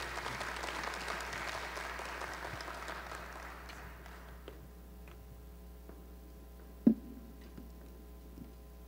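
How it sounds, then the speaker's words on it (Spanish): Forum audience applauding a presenter at a cybersecurity talk, steady mixed clapping for about four seconds that thins out into scattered claps and one sharp loud knock near the end. "un aplauso para él"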